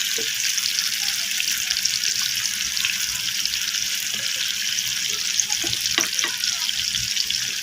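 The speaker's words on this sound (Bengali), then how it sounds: "মাছটাকে ভালো করে কড়কড় করে ভাজা করে নেবে" Fish, a Bengali bata fish, frying in a pan until crisp, with a steady, broad sizzle that holds throughout, overlaid with occasional faint taps and clinks from the cookware.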